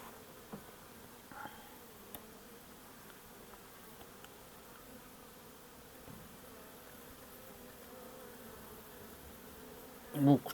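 Honeybees at a weak hive buzz as a faint, steady drone close by, with a few soft knocks and a louder bump at the very end.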